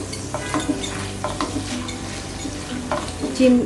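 Shrimp fry with salt in an oiled pan, giving a steady sizzle with scattered scrapes and stirring clatter from a utensil, moderately loud and close, with no talking.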